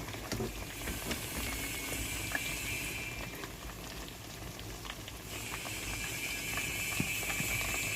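Continuous crackling and sizzling of chicken frying in hot oil, with scattered pops, steady and close.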